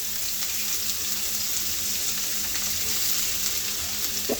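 Chopped onions fry with cinnamon and cardamom in a pan, giving a constant soft sizzle with faint stirring ticks, close and steady with no one talking.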